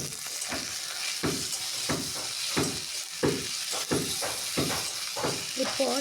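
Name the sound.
chopped onion and tomato added to frying potato and eggplant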